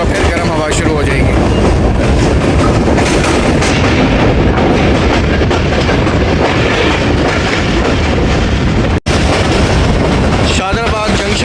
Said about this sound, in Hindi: शादराबाद जंक्शन से पास थ्रू हो रही है हमारी 13 अब अवाम एक्सप्रेस।